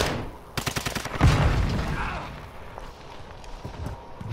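A quick burst of rapid gunshots in the game Call of Duty Modern Warfare 2, followed by a heavier thump and scattered game noise, with a voice faintly under it.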